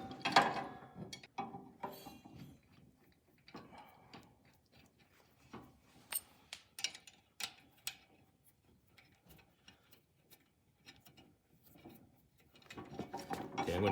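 Working the roller mechanism of a BakeMax reversible dough sheeter by hand gives faint, irregular mechanical clicks and ratcheting ticks, with small metallic knocks spread across the turning.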